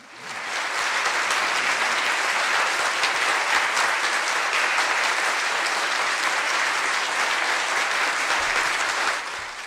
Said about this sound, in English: A round of applause for Linda M. Robinson.